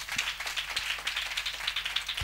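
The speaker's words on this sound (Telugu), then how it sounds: "కొట్టండి చప్పట్లు గట్టిగా" An audience at a religious sermon gathering claps together, a dense, steady patter of many hands heard from a moderate distance, with no talking over it.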